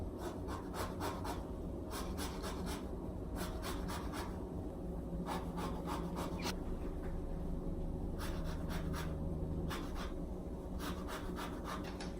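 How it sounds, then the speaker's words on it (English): A lemon is zested against the small side of a metal grater in a kitchen, giving repeated bursts of dry rasping scrapes in quick groups with short pauses between them, close and steady with no talking. "Go ahead and zest your lemon first."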